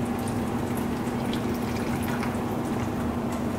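Chicken broth poured into a container while making salsa verde, a steady close liquid pour with light splashing and dripping, no talking over it.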